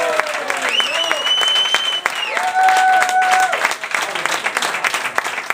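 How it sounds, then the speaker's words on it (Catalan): Rock concert audience applauding a band member, steady clapping with whistles and cheers over it. "sisplau, un fort aplaudiment."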